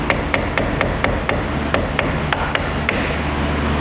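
Hammer and chisel gently tapping on a part of a 2016 Chevy Equinox, about a dozen crisp metallic taps in a fairly even rhythm, close and clear, no voices.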